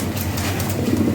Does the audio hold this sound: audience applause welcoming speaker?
no